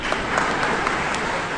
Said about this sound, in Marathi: टाळ्या वाजवा आता